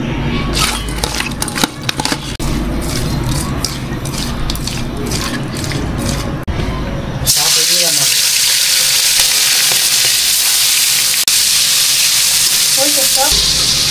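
Tengra fish coated in turmeric and salt frying in hot oil, a loud, steady sizzle with crackling that shifts midway as the fish settles in the pan, with no voices over it.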